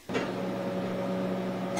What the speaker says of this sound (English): Zap it in the microwave for just like a little teeny bit